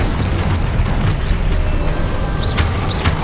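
Confringo fire spell exploding in the video game Hogwarts Legacy: a loud, sustained booming rumble that fills the whole clip, with a few brief higher whooshing accents near the end.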